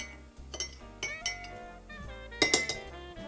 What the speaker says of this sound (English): I'm going to put 1 tablespoon in, and I'm going to mix it up a little bit.